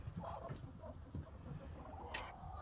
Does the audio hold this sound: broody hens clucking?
yes